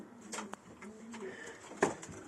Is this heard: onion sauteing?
no